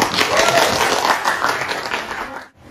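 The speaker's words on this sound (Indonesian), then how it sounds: "Tepuk tangan" Students in a classroom applaud, a dense wash of clapping loud and close for over two seconds before cutting off abruptly.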